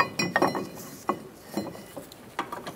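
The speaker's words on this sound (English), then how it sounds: "Now slide the bracket on over the rotor." A metal brake caliper bracket slides over the rear brake rotor of a 2007-2010 Mini Cooper, giving a few close, light metallic clinks and taps with short pauses between them.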